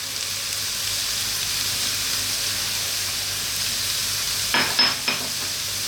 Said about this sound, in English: Now I'm using fresh garlic and ginger like that, not garlic ginger paste, because we're frying like this.